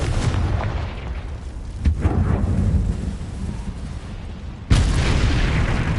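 A Confringo blasting spell in Hogwarts Legacy lands with a deep boom early on, rumbles off, and then a second, sharper explosion hits near the end, loud and close.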